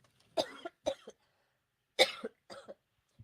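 Someone coughs repeatedly up close, harsh bursts in two clusters separated by a short pause, with no talking.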